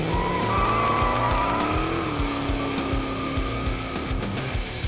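A 2020 Shelby GT500 engine roars at high revs on a track with tires squealing in a continuous burnout screech, loud and close, rising and falling in pitch.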